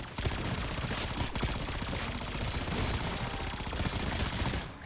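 Automatic fire from a purple-rarity gun in Black Ops 6 Zombies: a steady, unbroken stream of rapid shots at even loudness, stopping abruptly near the end.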